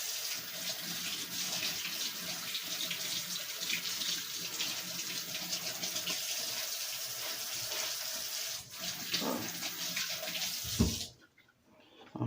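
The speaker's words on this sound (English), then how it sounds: "Let me wash my hands real quick." A kitchen tap runs steadily while hands are washed under it, a broad, close hiss of splashing water that carries on for several seconds and then shuts off abruptly.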